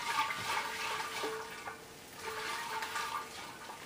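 Container of yeast slurry shaken by hand during yeast harvesting for homebrewing, giving sloshing liquid swirls in uneven bursts, close and fairly quiet, with no talk.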